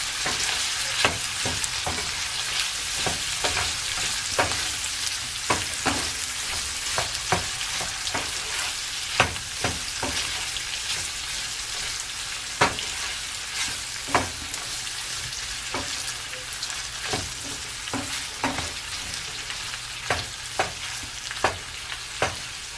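Sausage fries and browns in a pan with a steady, close sizzle, broken by frequent sharp pops and spatula scrapes that recur irregularly throughout.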